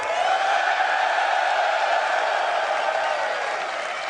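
A live-stream audience at a game day event claps and cheers in a dense, steady wash of applause that holds at an even level throughout before easing slightly at the end.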